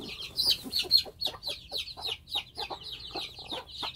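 Cheonggye hens cluck and squawk in rapid, agitated bursts while fighting to protect their chicks, a close, steady run of sharp calls with no talk over them.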